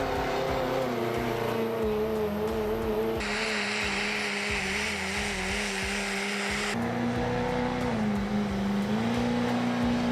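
Hot rod diesel trucks at a truck pull in Fishersville, Virginia roar loudly and steadily, with the engine pitch rising and falling as they rev and pull, continuous and close throughout.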